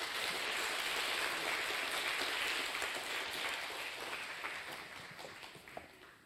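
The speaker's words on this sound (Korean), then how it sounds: "격려의 박수 부탁드립니다." A church congregation gives sustained applause after a testimony by a deaf praise team from Uzbekistan, a dense, even patter of many hands that slowly fades toward the end.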